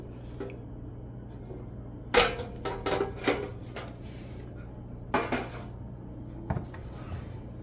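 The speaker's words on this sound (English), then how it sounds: "So this is my roasting pan for the turkey." A metal turkey roasting pan is handled in a quiet kitchen, producing several sharp clanks and rattles in separate bursts over a low steady hum, with no voices.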